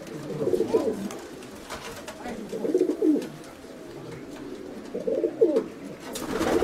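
Pigeons of a diving breed coo at a loft in Amygdalia, Kozani, in three throaty, rolling bursts at moderate distance.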